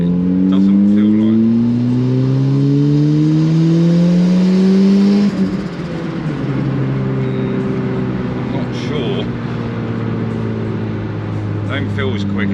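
A turbocharged K11 Nissan Micra with a failing engine accelerates hard, rising revs climbing through the gears with a shift about halfway, then droning on steadily at speed, loud and close from inside the car.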